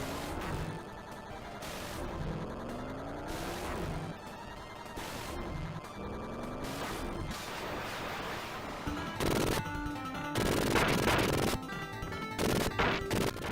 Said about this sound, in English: offering a rear-view shooting sequence where you had to dodge incoming fire and shoot back with your bow